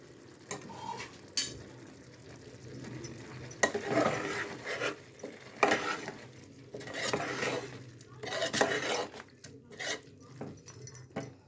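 A spoon stirs spices into a boti curry in a pot with gentle sizzling, giving irregular scrapes and clinks against the metal over a low fry, close and moderately loud.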